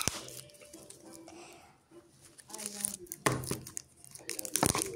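Heavily taped toy slime package being torn open by hand, with repeated ripping and crinkling bursts of varying loudness close to the microphone, under quiet speech.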